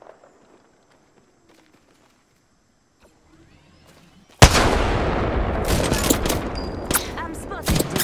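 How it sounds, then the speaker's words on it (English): After a few seconds of near silence, sudden loud gunfire erupts in the video game Apex Legends, with rapid close shots and impacts continuing to the end. "Listen up, I'm getting shot at."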